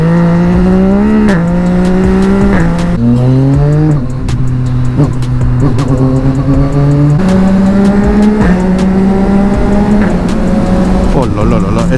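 A small, powerful motorcycle accelerating, engine pitch climbing in repeated surges with gear changes in between, loud and close throughout.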